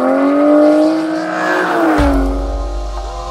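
Aston Martin Vanquish V12 engine revving loudly and alone, its steady rising drone sweeping up and then dropping away as the car passes close, followed by a lower rumble.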